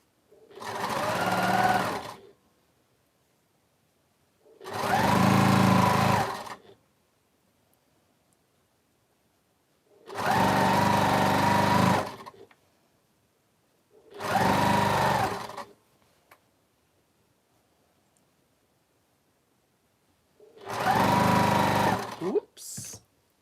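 A sewing machine stitching quilt squares runs in five separate bursts of about two seconds each, a close, steady mechanical whir separated by near silence.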